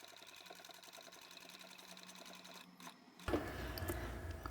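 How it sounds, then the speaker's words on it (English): A straight-stitch sewing machine running steadily across braid for a Christmas placemat or trivet, a soft rapid mechanical ticking hum that pauses briefly and then resumes with a louder, closer whir. "This machine only does a straight stitch, so I'll stitch straight down the centre."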